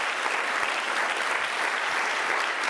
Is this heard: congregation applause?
yes